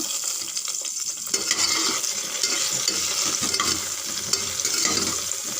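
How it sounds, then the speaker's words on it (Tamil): Brinjal pieces sauté in oil in a pan, a steady close sizzle broken by repeated scraping and clinking as a spoon stirs them, with no talking. "ஒரு ரெண்டு நிமிஷம் நல்லா வதக்கி விடுங்க"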